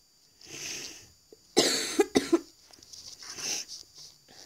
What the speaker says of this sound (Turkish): Bu arada hastayım. O yüzden öksürüyorum.